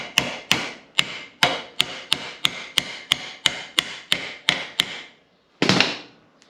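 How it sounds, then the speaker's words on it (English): A hammer strikes a vehicle universal joint held in a vise: about twelve sharp metallic blows at a steady, quick rhythm, close and loud, then a pause and one heavier final clank. "we get our uni joint, we'll sit it just in the vise and then we'll give it a hit"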